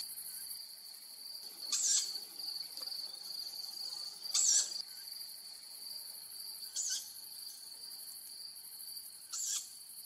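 A young tawny owl begs at night in a forest, giving four evenly spaced, hoarse, raspy calls over a steady high-pitched drone of crickets, fairly faint and distant.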